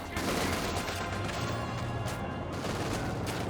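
Dense gunfire and explosions in a Company of Heroes 2 battle, with Bren-equipped sappers under attack: continuous overlapping shots and rumbling blasts, loud and unbroken throughout.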